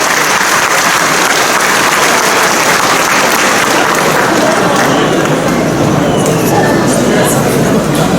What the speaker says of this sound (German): Wo man ein bisschen klatschen würde